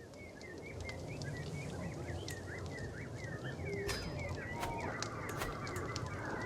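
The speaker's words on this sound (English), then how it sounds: "Loud chirping." A flock of birds calls loudly and continuously in a dense, overlapping chorus of honks and chirps, close and busy, with a few sharp clicks near the end.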